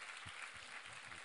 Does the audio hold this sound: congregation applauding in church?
yes